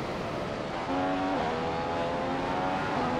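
Ferrari Formula 1 car engine at the Italian GP in the F1 2015 video game, a steady high whine that rises slightly in pitch partway through as it pulls along, heard alone without voices.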